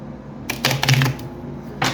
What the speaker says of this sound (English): I'm gonna shuffle it once on camera.